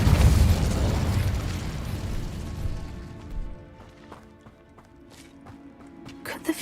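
The Incendio fire spell bursts out with a loud, rumbling whoosh of flame in the Hogwarts Legacy video game, then fades to a quieter background of faint ticks and clicks.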